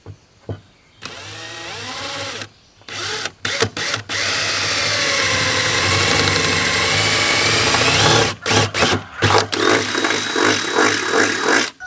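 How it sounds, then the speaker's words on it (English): A power drill boring holes in a car bumper, whirring loudly in sustained runs that start and stop abruptly, separated by short silent gaps and a final series of brief bursts. "Now that you got it all drilled out"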